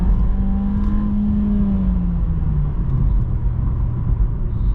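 A 2024 VW Jetta in manual mode accelerates after two downshifts. Engine rumble and a smooth whir rise steadily and stay loud, heard from inside the car with no talk.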